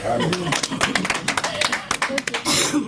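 An audience at a concert event claps in a quick, uneven patter of close individual hand claps over about three seconds, with a voice speaking through it.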